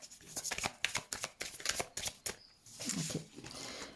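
Tarot cards are shuffled in quick bursts of crisp riffling and slapping, several short rounds close up and fairly quiet with brief pauses between.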